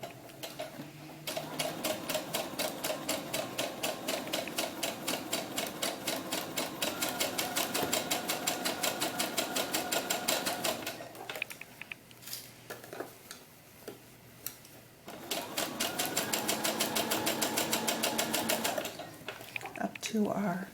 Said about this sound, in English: let's just go ahead and put a seam in here